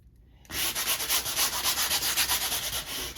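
Sanding on the white areas of a canvas painting starts after a half-second pause, then runs as a steady, close, loud abrasive scratching with a quick back-and-forth rhythm, with no talking.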